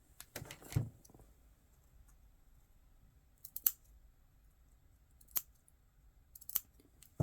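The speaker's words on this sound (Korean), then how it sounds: "네크라인은 가위밥을 줘야 되잖아요" Scissors snip notches into fabric along a garment neckline during sewing, heard as a few separate crisp clicks spaced out over a quiet background, with one cluster early and others later.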